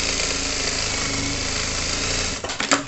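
A sewing machine runs a fast, continuous buzzing stitch along the lining of a child's backpack, then slows and stops with a few rattling clicks at the end.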